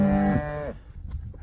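A cow lets out a single loud, close moo that lasts under a second and then stops, leaving quiet rustling at a cattle feed area.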